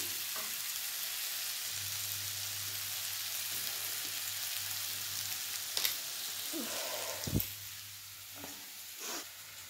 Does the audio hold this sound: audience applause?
no